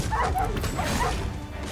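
Wolves in the video game Dragon's Dogma 2 yip and snarl during a fight, several short, sharp canine cries over a busy game-sound backdrop, with no speech.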